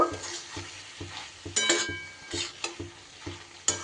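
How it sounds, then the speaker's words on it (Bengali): Turmeric is stirred into green beans frying in a pan for a vegetarian bean dish, with a steady sizzle and a few sharper scrapes and clinks of the spoon against the pan, close and moderately loud. "হলুদটা দিয়েও একটু নাড়াচাড়া করে নেব"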